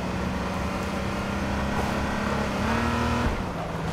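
A car careens out of control in the video game H1Z1, its engine roaring loudly and continuously with a rising whine near the end, heard up close without talk.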